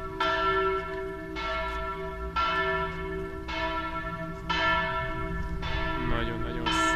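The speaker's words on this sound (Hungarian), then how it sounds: "szól a harang." A church bell rings from a Reformed church in Worms, Germany, with steady repeated strokes ringing out clearly and close, each stroke leaving a long humming decay.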